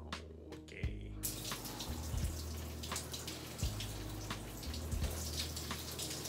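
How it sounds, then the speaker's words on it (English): Cold shower running indoors, a faint, steady spray of water with scattered drips and splashes and a low hum underneath, continuing throughout. "Gonna go take a cold shower now."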